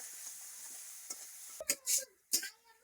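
Onions with salt frying in a pan: a faint sizzle at first, then several loud bursts of stirring and scraping sizzle in quick succession, close and without talk.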